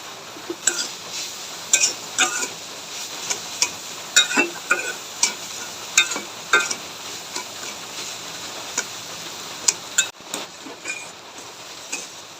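Coconut filling with sugar is stirred and cooked in a pan, with a spoon repeatedly scraping and clinking against the metal at an irregular rhythm over a faint low sizzle. Close and fairly quiet, with no talking.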